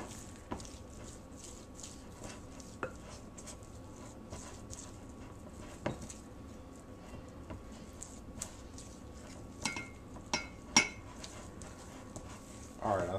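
Spoon scraping and clinking against a bowl while almond flour batter for a paleo apple cinnamon cake is stirred, a soft steady patter with sharper clinks near the end, faint and close.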